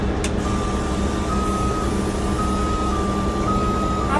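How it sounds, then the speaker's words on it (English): A bus kneels to the curb while a steady warning tone sounds continuously over a loud idling engine rumble, with a brief hiss at the start. "I'm gonna kneel my bus."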